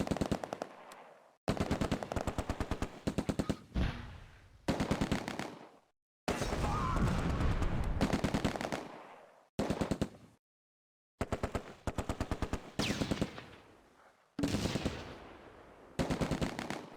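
Bren light machine gun fire in the Close Combat: A Bridge Too Far wargame, loud repeated rapid bursts separated by short silent gaps, with a longer rumbling blast in the middle.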